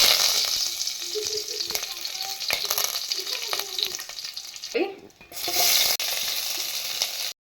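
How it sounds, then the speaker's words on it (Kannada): Mustard seeds and curry leaves frying in hot oil in a kadai for village-style pepper rasam: a close, continuous crackling sizzle with light stirring clinks, a brief dip in the middle before the hiss resumes. "ಬ್ರೌನಿಶ್ ಬರೋವರೆಗೂ ಆಯಿಲಲ್ಲಿ ಫ್ರೈ ಮಾಡ್ಕೊಳ್ಳಿ"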